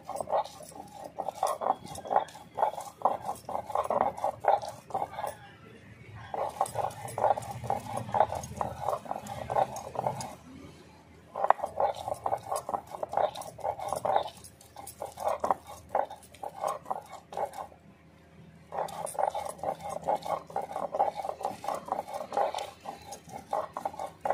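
Ingredients for a prawn and taro-leaf bhorta ground by hand on a stone grinding slab, heard as repeated scraping, knocking strokes in steady bursts with brief pauses, close and fairly loud, with no talking.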